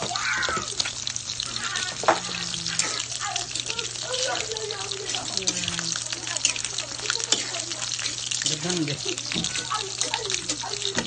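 Carrots and potatoes sizzle and fry in a pan for a sautéed vegetable dish with pork, a steady hiss punctuated by stirring clinks and scrapes, close and continuous.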